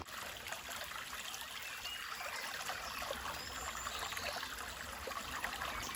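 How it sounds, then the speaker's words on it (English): A small stream trickles beside a walking path on the road to Santa Marina, giving a soft, steady, continuous babble without pauses or voices. "there's something about these streams, these little brooks as you walk along, that the sound is so comforting, so relaxing"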